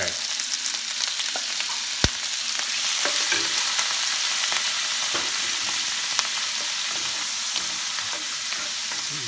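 Shrimp cook in a hot pan for shrimp fettuccine alfredo, giving a steady, close sizzle with a few sharp clicks from utensils and no talking.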